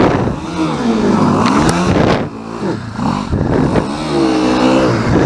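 An off-road vehicle's engine revs hard and rises and falls in pitch as its wheels spin on a slippery, muddy wooded slope, loud and close, with no voices.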